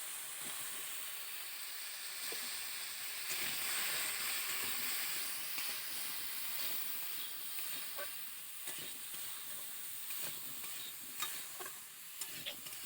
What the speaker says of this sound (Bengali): এটা ভালো করে নেড়ে চেড়ে ভেজে নিতে হবে